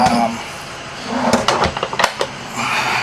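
A large cabinet drawer slides open and shut with a few quick knocks and scrapes close by, with a faint voice nearby.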